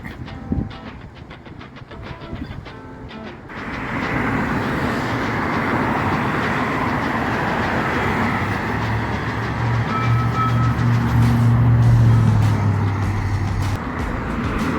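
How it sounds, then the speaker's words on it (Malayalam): A metro-style public transit train in California's Silicon Valley passes nearby, building from a rumble into a loud, steady roar of wheels and rails that holds for about ten seconds. "നമ്മളുടെ മെട്രോ പോലെ ഓടുന്ന ഒരു ട്രെയിനാണ് ഇപ്പോൾ ഞാൻ കാണിച്ചത്"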